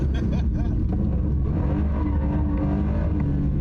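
Close and loud, a drift car engine at a drifting event revs and shifts pitch, its throaty roar rising and falling over a low rumble. A voice is faintly audible beneath it.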